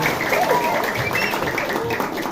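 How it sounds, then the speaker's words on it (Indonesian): Audience applause for Koripan at a Balinese comedy performance, a steady, moderately loud crowd clapping that runs the whole moment, mixed with faint tonal sounds and some background voices. "Tepuk tangan untuk koripan."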